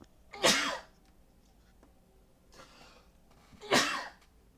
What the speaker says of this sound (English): That was a little sneeze fit.